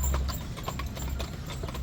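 Horse hooves clip-clop in a steady rhythm at a fall festival in Lynchburg, fairly faint against a background murmur of outdoor crowd noise.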